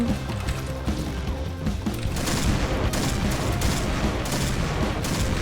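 Dense, rapid gunfire and mechanical clatter from the Point Blank shooter game play loudly and continuously, with bursts overlapping throughout.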